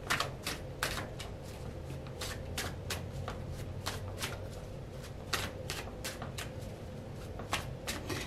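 A deck of tarot cards is shuffled steadily and close by, giving a continuous run of quick riffling flicks and soft card slaps with no talking.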